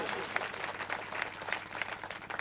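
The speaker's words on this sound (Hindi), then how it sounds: "ये तमाम बच्चियां जोरदार तालियों से स्वागत कीजिए" An audience at a students' motivational programme at a coaching centre in Forbesganj applauds to welcome girl students, a steady, even wash of many hands clapping with faint crowd murmur beneath.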